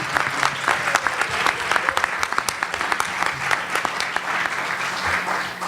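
Loud, lively applause from the audience at a Q&A for a South Carolina panel, dense clapping with some sharper individual claps and a few voices mixed in, continuing throughout.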